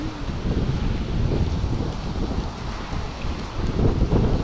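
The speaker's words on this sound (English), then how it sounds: "Oh, it's getting windy." Gusty wind buffets and roars across the microphone in a steady, rough rush that swells louder toward the end, on a street by a shopping mall in Marbella, Spain.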